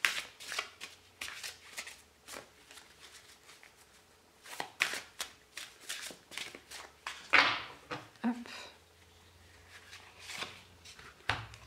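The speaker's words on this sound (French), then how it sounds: "On va tirer une petite carte" An oracle deck of witch-themed cards is shuffled and cards are drawn, giving a steady run of close, crisp papery riffles and flicks with a few sharper slaps, without speech.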